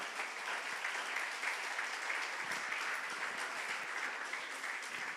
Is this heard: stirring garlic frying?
no